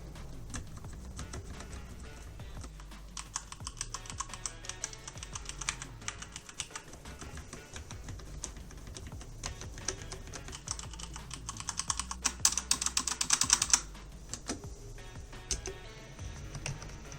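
Rapid typing on a Logitech G513 Carbon gaming keyboard with Romer-G tactile switches, a close, continuous patter of soft key clicks with a brief burst of faster, louder strokes near the end.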